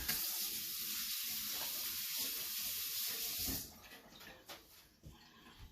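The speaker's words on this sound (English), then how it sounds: "wash my hands real quick" Tap water runs steadily for a few seconds while hands are washed in a kitchen during pizza dough making, then stops, leaving a few faint splashes and clinks.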